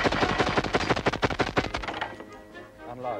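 Rapid bursts of blank gunfire from Mauser rifles and machine guns on a 1985 Australian TV war-series set, a dense crackling volley for about two seconds, then fading into scattered echoes.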